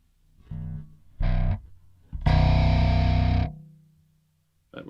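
Bass guitar run through an Audio Assault Dominator amp simulator with its noise gate on, three loud distorted notes, the last held longest, each cut off cleanly into silence, then a fourth starting at the end.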